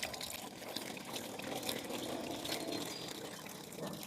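A steady gush of water pours into freshly repotted garden plants, a continuous close splashing wash with no talking.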